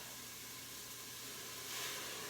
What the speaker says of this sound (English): you can hear them steaming now